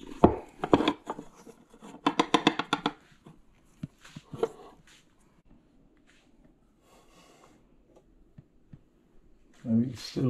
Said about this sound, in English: I'm just going to put this plate on top of the pan, and then we'll just do a flip